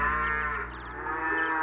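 A single cow moos in a long, close, drawn-out low call that dips briefly in the middle before rising again, in the setting of a Mario and the Beanstalk cartoon.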